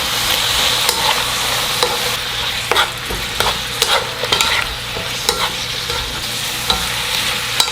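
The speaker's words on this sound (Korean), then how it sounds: "그래서 잘 섞이도록 볶아주세요." Fish cakes stir-fried with oligosaccharide syrup crackle and sizzle steadily in the pan while a spatula scrapes and taps in irregular strokes, loud and close, with no talking.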